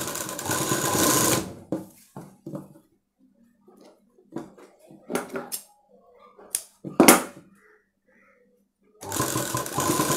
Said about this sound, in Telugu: మనం అలా కుట్టుకుంటున్నాం